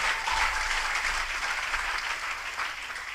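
A church congregation applauding together, giving a dense, steady wash of clapping from many hands that holds for a few seconds and eases slightly toward the end.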